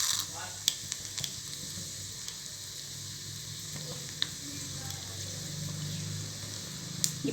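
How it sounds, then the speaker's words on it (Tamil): Cumin and black pepper sizzle in hot ghee for a pearl millet venpongal: a steady, moderately quiet frying hiss with a few sharp clicks and taps, and no talking. "நெய் நல்லா சூடானதுக்கப்புறமா சீரகம், இப்போ மிளகு ஆட் பண்ணிக்கிறேன்."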